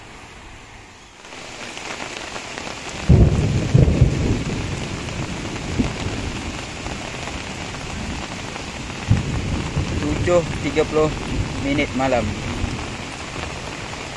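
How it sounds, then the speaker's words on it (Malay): Steady heavy rain drums on a surface at a riverside campsite, with deep rumbles of thunder rolling through; a voice speaks briefly in Malay partway through. "Suasana hujan lebat beserta guruh."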